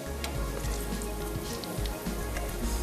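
Chicken pieces fry in a pan for a chicken cheese sandwich, giving a steady, close crackling sizzle with no one speaking.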